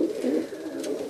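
Racing pigeon of Van de Vos and Van Loon lines coos in a loft, a low, rolling, throaty call heard up close and loud for about a second.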